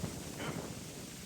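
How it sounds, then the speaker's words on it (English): Strong wind buffets the microphone outdoors at a base camp, a steady broadband rush with low rumbling gusts filling the short clip. "This wind is insane."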